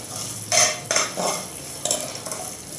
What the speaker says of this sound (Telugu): పోపులు అయితే యాడ్ చేసి రెడ్ కలర్ వచ్చినంత వరకు కూడా మీడియం ఫ్లేమ్లో వేయించుకోనండి